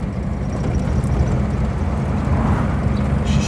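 A vintage Armstrong Siddeley car engine, long unused and running rough, drones steadily up close, a low uneven rumble with some roughness in its tone, continuous from start to finish.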